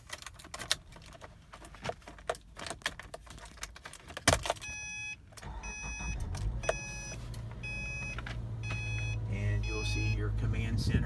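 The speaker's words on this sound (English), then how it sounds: "Now I'm going to go ahead and grab the keys and we'll start this thing up." Keys jangle and rattle as they are handled inside a 2012 Subaru Forester 2.5X Limited, followed by chiming dashboard beeps and the engine starting up into a steady low idle.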